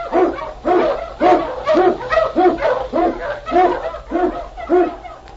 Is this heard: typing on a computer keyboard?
no